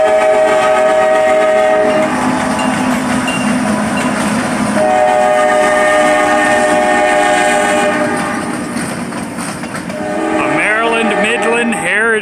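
Western Maryland Midland heritage unit locomotive passes close and loud at Thurmont, horn sounding in long sustained blasts over rumbling wheels and rail clatter, the horn fading midway and returning as the train rolls by.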